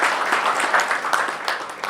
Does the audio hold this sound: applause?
yes